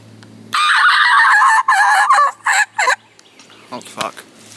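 A wild turkey gobbles loudly and close in the open on the opening day of turkey season, one long rattling call broken into bursts, then fainter trailing notes.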